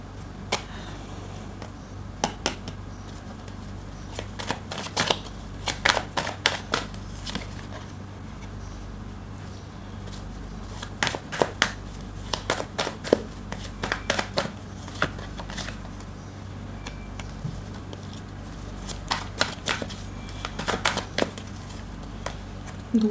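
Tarot cards are shuffled in several soft, rapid riffling bursts spread across the stretch, close and fairly quiet over a low steady background hum.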